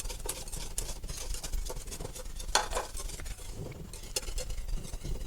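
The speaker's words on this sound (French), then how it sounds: "portez l'ensemble à ébullition, sans cesser de remuer" Béchamel sauce being stirred in a pot as it comes to a boil: continuous soft scraping and clinking of a utensil against the pan, with faint bubbling and sizzle underneath, steady and close.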